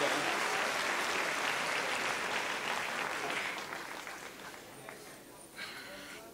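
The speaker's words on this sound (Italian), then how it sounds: "Teo Teocoli, un applauso!" Audience applause for Teo Teocoli at a live show, dense clapping that holds steady and then thins out and fades toward the end.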